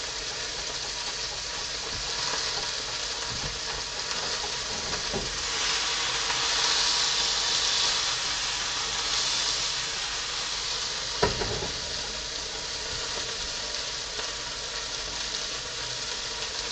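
Burger patties searing in a hot pan give a steady, loud, even sizzle that carries on for a long stretch, with a few faint clinks and bumps and no voices.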